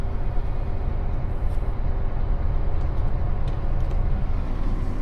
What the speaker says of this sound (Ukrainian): Я виїхав, закрив ворота, їду із спущеним колесом.